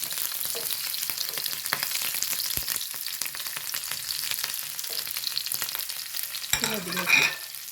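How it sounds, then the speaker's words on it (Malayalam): Two or three small green chillies fry in hot oil with a dense, continuous crackling sizzle, close up, broken by a few clinks of a utensil and a brief louder spatter near the end. "ഇതാ ഒരു രണ്ട് ചെറിയ മൂന്ന് പച്ചമുളക് കേട്ടോ അതതിൽ കിടന്ന് മൂപ്പിച്ചെടുക്കാം"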